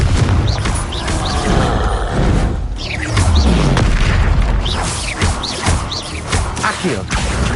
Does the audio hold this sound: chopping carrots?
no